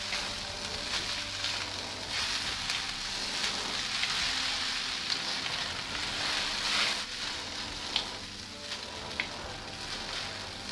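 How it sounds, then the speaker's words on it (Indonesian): Noodles tossed with previously fried shrimp in a hot pan give a soft, continuous sizzle with occasional light scraping ticks from stirring, fairly faint and without speech. "tambahkan udang yang sudah digoreng. Nah, diaduk lagi."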